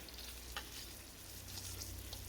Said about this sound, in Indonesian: Dan goreng bagian sisinya lagi menjadi coklat sampai matang.